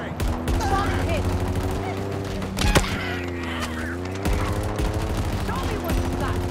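Rapid gunfire in Halo Infinite, fast repeating shots layered over a droning tonal background, with brief louder bursts and a sharp crack midway; no talking.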